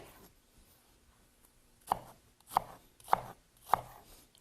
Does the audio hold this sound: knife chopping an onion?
yes